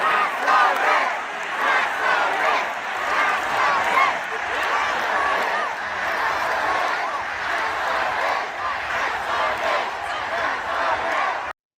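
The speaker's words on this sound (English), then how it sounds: "Listen to the crowd at this rally." Loud, dense crowd at a political rally chanting and yelling continuously, a roaring mass of voices that stays steady and close throughout without letup.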